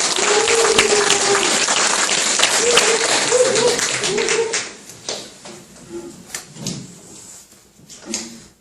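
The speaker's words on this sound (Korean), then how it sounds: "여러분 힘찬 박수로 맞이해 주시기 바랍니다" A lecture audience claps to welcome the speaker, loud at first, then thinning into scattered claps with some brief voices and shuffling noises.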